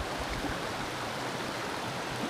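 A river rushes steadily near a mountain lake, a constant broadband wash of flowing water heard up close with no voices.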